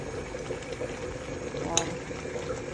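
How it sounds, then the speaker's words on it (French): A couscous sauce with lamb, thickened with sugar, simmers and reduces in a pot, a steady close bubbling with a faint clink, while someone talks over it. "je laisse réduire un petit peu la sauce"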